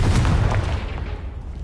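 A Confringo blasting spell detonates in Hogwarts Legacy, one heavy booming explosion with a deep low rumble that decays over the next second.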